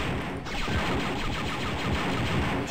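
Blaster and gunfire bursts from the 1995 Star Wars: Dark Forces video game, a rapid, dense volley of shots filling the short stretch at steady loudness with no speech.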